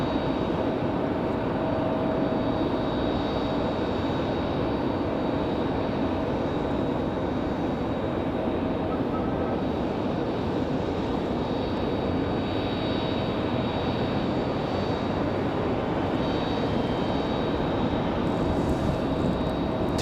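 A Boeing 737 jet at Raleigh-Durham airport produces a steady, moderately distant engine rumble and hiss that holds unchanged throughout, with no talk over it.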